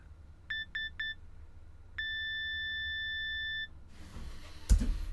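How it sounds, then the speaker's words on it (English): Three quick electronic beeps, then a long sustained tone like an answering machine signal, followed by a hiss and a click. "Please leave your message after the beep."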